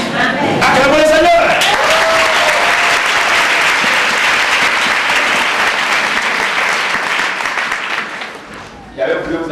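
A church convention audience bursts into loud, sustained applause with cheering voices, clapping densely for about eight seconds before fading, then a voice speaks as it dies down.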